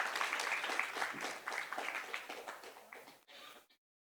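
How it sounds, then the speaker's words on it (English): Audience applause at a poetry café event in Dehradun, a sustained round of clapping from a crowd that carries for about three seconds, then tapers off and stops. "a huge round of applause for Samridhi Juyal,"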